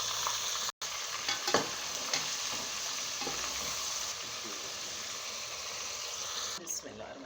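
Chicken sizzles in a pan with garlic, ginger and an onion-tomato paste for a chicken karahi, a steady loud frying hiss with occasional stirring scrapes and clinks, close and continuous.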